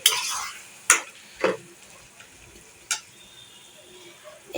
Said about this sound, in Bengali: এখন এটাকে নাড়াচাড়া করে কষিয়ে নেবে